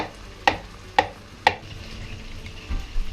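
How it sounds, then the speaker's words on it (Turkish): Knife chops mushrooms into long strips in a home kitchen, three sharp evenly spaced cuts close up, followed by softer scraping and handling noises. "Ben mantarlarımı aynı şekilde yine uzun uzun doğrayacağım"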